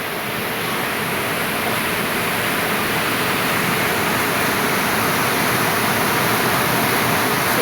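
Floodwater rushes steadily through a flooded street junction in Indonesia, producing a loud, constant broadband roar with no pauses.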